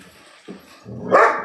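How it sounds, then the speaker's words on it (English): Dog barks once in a short, close bark, with a faint soft yelp just before it and quiet room noise around. "You don't bark like that"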